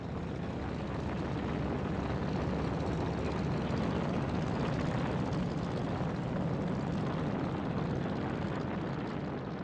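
A World War II propeller bomber rolls down the runway at Isley Field on takeoff, its engines a loud, steady, continuous roar.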